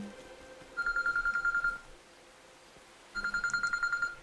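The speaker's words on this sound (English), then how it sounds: "Gotta take this phone call real quick." Two bursts of a telephone ring, each a rapid trilling electronic warble lasting about a second, separated by a short pause and heard clearly at moderate volume.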